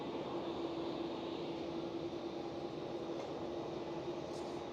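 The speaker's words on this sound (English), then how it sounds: "The Dreamliner taxiing out as well." A Boeing Dreamliner airliner taxiing at Amsterdam Schiphol airport gives a steady, moderately distant jet engine whine and broadband rumble that holds evenly throughout with no talking.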